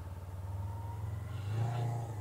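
A motorcycle engine idles low and steady through a slow U-turn, its rumble rising briefly as the clutch is feathered, with no voices.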